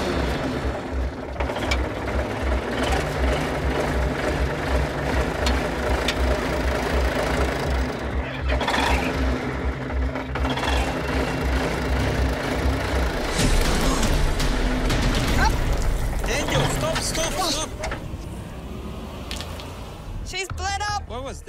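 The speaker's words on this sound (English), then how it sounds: "I've had no formal training on how to operate a dozer." An old bulldozer engine runs steadily at high revs throughout, a loud continuous mechanical drone with clanking and ratcheting tracks and metal parts, while someone speaks over it.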